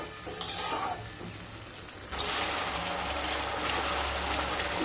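Spices cook in a pan for a Bengali katla fish dish, a spoon scraping and stirring up close before a steady, loud sizzle of frying takes over.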